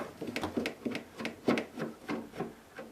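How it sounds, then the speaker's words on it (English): Phillips head screws being backed out of a GE refrigerator with a screwdriver, giving a close, rhythmic series of short scraping, rasping turns that repeats steadily throughout. "Now I'm going to take these 2 screws out."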